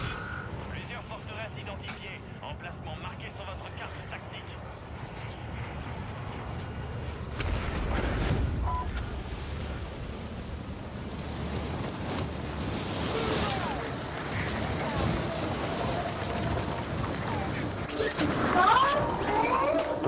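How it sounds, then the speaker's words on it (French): Gunfire aimed at the player in a shooter video game, a run of low booming shots and bursts, loudest through the second half, mixed with game mechanisms and ambient noise. "Ah ouais, il me tire dessus déjà."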